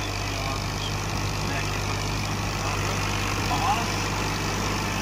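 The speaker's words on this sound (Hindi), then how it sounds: "ट्रैक्टर की सोहनी आवाज है," A 55 HP tractor working a rotavator runs steadily with a deep, even droning hum, and a voice can be heard faintly over it.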